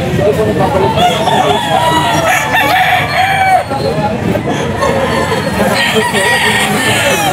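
Gamefowl roosters crow repeatedly at a busy pet market, several loud drawn-out calls overlapping with clucking and a steady murmur of crowd chatter around them.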